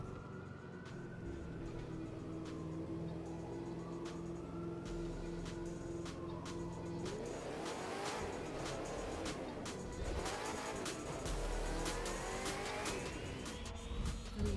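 Cars in a street race through downtown LA in The Crew 2, engines revving and rising in pitch with tires squealing and cars passing, a steady loud roar that swells after the start.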